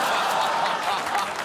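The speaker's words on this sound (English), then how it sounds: "Noisy crowd, Gary." Noisy television studio audience clapping and laughing, a dense steady roar of applause filling the whole short moment.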